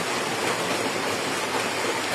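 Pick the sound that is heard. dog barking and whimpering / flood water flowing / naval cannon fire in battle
flood water flowing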